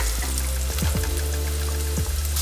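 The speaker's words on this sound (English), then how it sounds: "Now we'll add in our garlic." Garlic goes into golden-brown frying onions for a Swahili biryani chili mixture, producing a continuous close sizzle over a low steady hum with a few brief clicks from stirring, no voices present.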